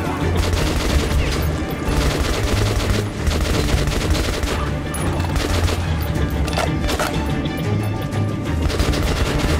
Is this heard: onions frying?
no